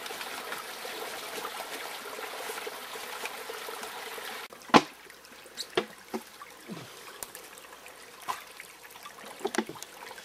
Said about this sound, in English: fresh mountain stream